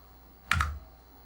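A quick burst of clattering keystrokes on a worn Apple IIc keyboard, two close taps in rapid succession standing out against a quiet room.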